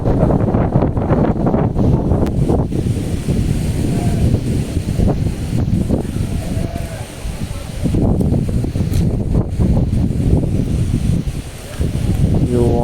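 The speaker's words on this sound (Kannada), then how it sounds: "ಗಾಳಿ ಜಾಸ್ತಿ ಆಗೈತಿ" Strong wind gusts across dusty open farmland near hills where cattle are tied. The rumbling, buffeting roar hits the microphone continuously and loudly, and a voice is faintly audible underneath.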